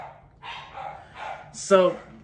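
A few muffled barks from a dog somewhere nearby after the doorbell rings, ending in one louder, sharper bark, with faint background noise.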